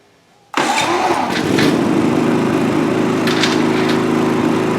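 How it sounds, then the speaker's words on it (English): A MaXpeedingrods MXR4000GT generator fed from a remote fuel tank cranks on a push-button start and catches at once, then settles into a loud, steady close-range running drone with no voices. "you'd simply go ahead and push the button again to start the generator"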